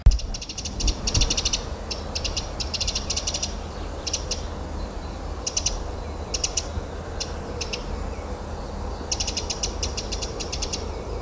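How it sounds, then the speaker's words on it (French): A Eurasian wren sings in a pine forest: repeated high, rapid trilling bursts recur through the clip over a soft, steady ambient background. "Avez-vous reconnu le chant de cet oiseau? Eh bien c'est un troglodyte mignon."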